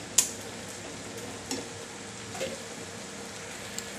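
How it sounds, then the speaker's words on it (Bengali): Curry gravy being stirred and fried down until dry in a pan, a faint, steady low sizzle with a few soft scraping clicks from the spatula. "ঝোলটাকে শুকিয়ে পুরো ভাজা ভাজা করা হবে"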